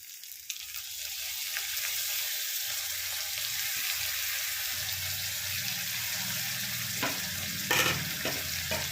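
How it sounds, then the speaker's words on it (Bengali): Fried onions and crushed tomato sizzle in a pan, a steady close frying hiss with occasional stirring scrapes and a few clinks. "পেঁয়াজ ভাজা হয়ে গেছে, আমি এবারে এতে টমেটো ক্রাশ করে নিলাম,"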